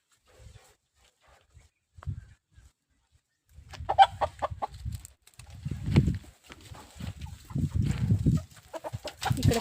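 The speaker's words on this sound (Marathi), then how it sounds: "पिल्ली काढण्यासाठी कोंबडी बसवली ताईंनी अशी." A brooding hen sitting on eggs to hatch chicks in a wire coop on a village farm gives low, soft clucks and grumbles, sparse at first and then nearly continuous, close by.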